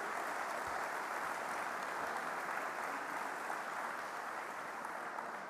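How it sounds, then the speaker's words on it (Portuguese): Audience applause at an anniversary dinner of a business association in Seixal, sustained, even clapping from a crowd, fairly distant and steady throughout, without voices over it. "são palmas bem merecidas."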